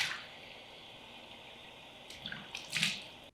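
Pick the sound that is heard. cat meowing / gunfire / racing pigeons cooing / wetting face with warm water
wetting face with warm water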